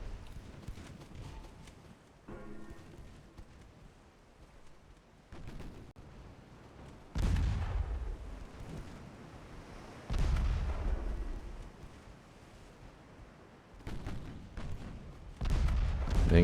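Heavy naval main gun salvos in the UAD warship game, deep booming blasts arriving in spaced clusters over a low rumbling background, each roar loud and drawn out.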